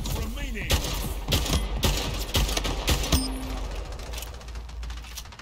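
Rapid bursts of SMG fire from the video game Splitgate crackle in quick, uneven volleys with metallic clicks, loud and close, and a voice talks over part of it.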